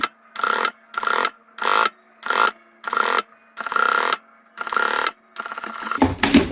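A sewing machine stitches a thread-holder pouch in eight short, rhythmic bursts of needle chatter with brief pauses between, backstitching to lock the seam, followed by a rougher handling noise at the end.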